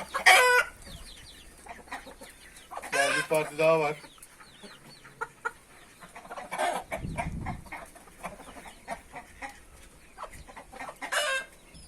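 Ispek breed chickens and their chicks cluck and squawk in scattered bursts nearby, with crowing-like calls among them, while someone speaks briefly in the middle.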